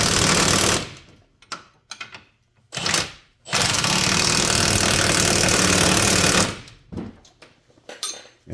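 Electric impact tool tightening strut nuts on a 2007 Hyundai Santa Fe during a strut and sway bar link replacement, loud rattling hammering bursts, one long sustained run of several seconds and shorter stuttering pulses between pauses.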